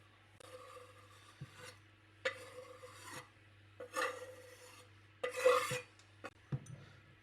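Dairy-free melted chocolate being mixed in a bowl gives four separate bursts of close, rasping scraping, each about a second long, with short quiet gaps between them and a low steady hum underneath.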